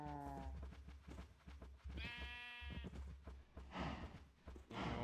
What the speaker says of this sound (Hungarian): Hát viszünk akkor birkákat is, hát miért ne? Tehén birkák.